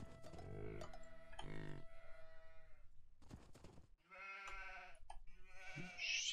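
Several sheep and goats bleat in the Age of Empires 2 video game, a run of separate close, wavering calls with brief gaps between them, and a faint bell-like chime near the end.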